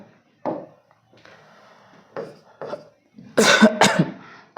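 A few sharp coughs close to the mic, a short one at first, then a loud, rough burst of coughing near the end with quiet pauses between.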